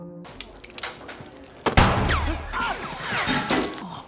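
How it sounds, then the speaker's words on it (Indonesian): A pistol goes off accidentally with a sharp loud bang midway through, after a few smaller knocks, and is followed by chaotic crashing and screeching noise. "Pistol miliknya mengeluarkan tembakan yang mengakibatkan kaki Holland terluka."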